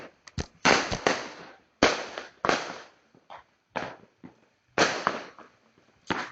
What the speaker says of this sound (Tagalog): May paputok ako, baka ganda.